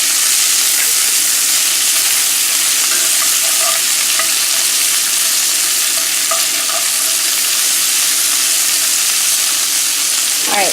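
Smoked beef sausage and vegetables sizzle loudly and steadily in a skillet, with a constant frying hiss and occasional small pops and stirring scrapes close by.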